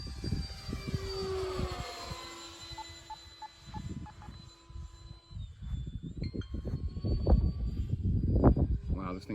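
An FMS A-10 RC model jet with ordnance fitted flies overhead, its thin electric fan whine sliding in pitch as it passes, partly under loud gusty wind noise and bumps near the microphone.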